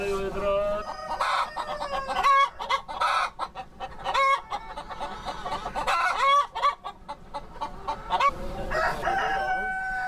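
Free-range laying hens on a farm cluck and squawk continuously in a busy chorus, with a rooster crowing among them, close and loud with a steady farmyard background.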